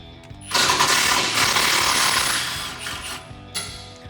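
Power tool on a 2007-2018 Silverado or Sierra frame rail during a leveling kit install, a sustained loud rattling whir that kicks in after half a second and runs with a brief pause near the end.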